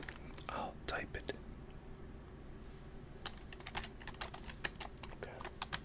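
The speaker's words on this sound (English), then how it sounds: "What's your name? I'll type it." Soft, close typing on a computer keyboard in an ASMR setting, with irregular bursts of crisp key clicks alongside quiet whispered speech.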